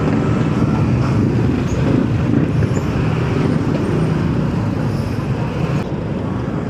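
Dense road traffic heard from a moving motorcycle, a constant loud roar of engines and wind rushing past, with no clear voices over the steady noise.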